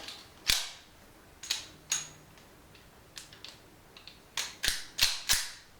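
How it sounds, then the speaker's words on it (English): A Rock Island Armory Baby Rock .380 pistol is dry-fired on a snap cap, giving a series of sharp, close metallic trigger clicks and snaps at irregular intervals. "We'll go ahead and put a snap cap in here to demonstrate the trigger pull on that."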